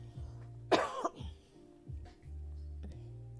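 One sharp, close cough stands out against a quiet room with a low hum, followed by a few faint throat sounds.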